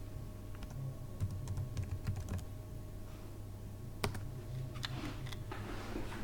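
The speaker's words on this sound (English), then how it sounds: "I'm going to type in the name of my clinician that I'm wanting to build cover for." Typing on a computer keyboard while entering a clinician's name into Meditech software, a quiet run of scattered key clicks in short bursts over a low steady hum, with no one talking.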